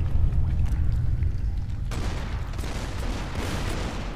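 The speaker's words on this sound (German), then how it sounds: "Schüsse verletzen ihn nicht" Gunshots ring out in the video game Tomb Raider Underworld, a dense burst of booming, low-heavy gunfire followed by a rumbling, rattling roar, loud and continuous with no voices.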